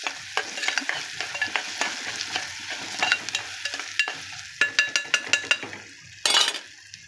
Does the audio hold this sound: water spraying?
no